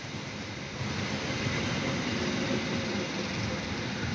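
A service train with a locomotive hauling executive carriages rolls into Wates station in Indonesia, a continuous broad rumble and rail roar held at a steady, fairly loud level throughout.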